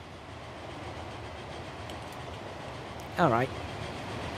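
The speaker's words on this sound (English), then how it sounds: "look at the amount of trains going around here" Trains roll through a busy rail network in the video game Transport Fever, a steady rumbling clatter of cars under the narration, with a brief spoken word cutting in near the end.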